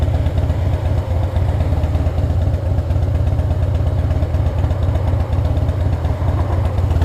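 Motorcycle engines idle steadily at a motorcycle show near Atlantida Beach in Geroskipou, Paphos, Cyprus, making a close, loud, continuous low throb with a faint pulsing rhythm.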